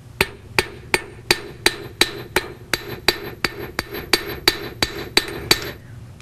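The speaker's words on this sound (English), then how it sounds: "I'll flip the hammer and smooth them out with the flat face of the hammer." A metalsmith's hammer strikes metal about fifteen times in a steady, even rhythm, each blow sharp, ringing and close.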